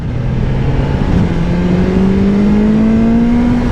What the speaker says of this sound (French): Il n'y a pas besoin de couper les gaz pour shifter, donc on peut vraiment se prendre des accélérations démoniaques.